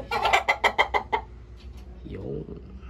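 Roundhead gamefowl rooster clucking close by in a rapid burst of about six sharp, loud clucks, followed by a softer, lower call, with a faint voice in the background.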